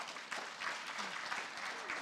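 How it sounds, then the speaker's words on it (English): Audience applause at an FFA banquet, a dense patter of many hands clapping at moderate volume, steady for about two seconds with no talk over it. "You can give them a round of applause, please"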